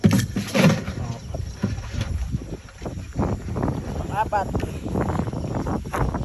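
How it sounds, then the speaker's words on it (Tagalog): Strong wind buffets the microphone outdoors while land crab hunting, with a steady roar and gusty rumble, while a person speaks briefly in Filipino. "Lakas ang hangin dito."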